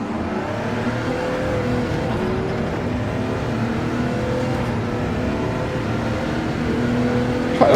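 Engine of a Porsche 919 race car in Gran Turismo 7, racing at Spa-Francorchamps, a steady loud mechanical drone with a constant engine tone and no pause, rising slightly at the very end.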